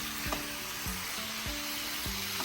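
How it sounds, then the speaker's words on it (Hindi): Spicy crunchy potatoes frying in a pan, a steady close sizzle with a few soft scrapes as they are stirred at regular intervals. "जैसे ये थोड़ा फ्राई हो जाता है"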